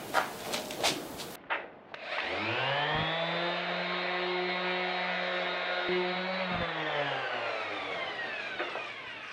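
Sanding a guitar fretboard with fine 1200 grit sandpaper while building a guitar neck: a steady, close rubbing hum with a sustained tonal whine runs for about seven seconds after a few brief knocks, with no talking.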